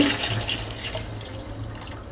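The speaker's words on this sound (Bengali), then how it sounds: "তো আমি চিকেনের পানিটা সম্পূর্ণ দিয়ে দিলাম।" Chicken stock pouring into a pot with lightly fried ingredients for chicken soup, a brief continuous splashing liquid rush, close and fairly loud.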